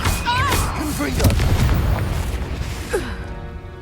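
Confringo blast spells explode in the Hogwarts Legacy video game, with deep booming bursts and pops amid combat noise, while a voice talks over the action.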